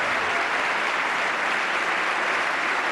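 A State of the Union audience standing and clapping, with a thick, even wash of applause from a large crowd filling the hall for a few seconds, heard without speech.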